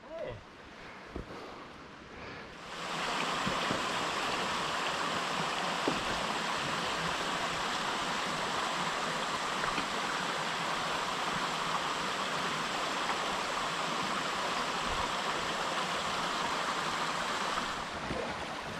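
Steady broadband rushing of water, like a creek flowing over rocks, continuous and fairly close for most of the clip.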